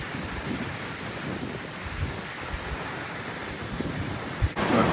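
Steady wind blows outdoors aboard a moored sailboat, a constant broad rush with occasional gusts buffeting the microphone.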